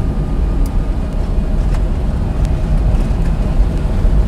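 Daihatsu 4x4 Japanese minitruck with jumbo Yokohama mud and snow tires climbing a steep hill in fifth gear, a steady low engine drone and road rumble continuing without a break, close and fairly loud.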